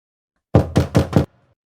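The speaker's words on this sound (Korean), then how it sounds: "누군가가 문을 두드리는 소리" Four firm knocks on a door in quick, even succession, close and loud, followed by silence.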